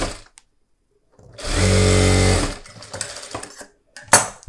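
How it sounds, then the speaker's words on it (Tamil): A sewing machine runs a steady one-second burst of stitching on a blouse band, loud and close, followed by scattered handling and fabric clatter, with a sharp knock near the end. "மீதி எவ்வளோ இருக்கோ அதை உள்ளே தள்ளிட்டு சும்மா ரஃப்பாக ஒரு தையல் போட்டுக்கோங்க"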